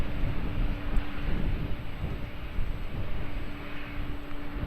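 A plane taking off from runway 20 at Lisbon Airport sends a steady, deep engine roar from some distance, with no voices over it.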